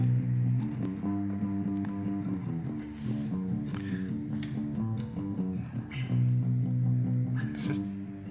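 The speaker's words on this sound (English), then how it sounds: "I brought out my fretless acoustic bass" A fretless acoustic bass plays a steady, smooth melodic line with sliding notes, evenly compressed and flat in level, heard alone without any talking.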